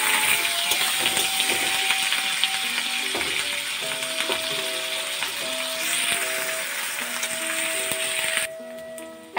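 Grated onion dropped into hot oil with fried potatoes for ghugni, giving a continuous sizzling frying hiss under scraping and clattering of a utensil, until the sound cuts off abruptly near the end.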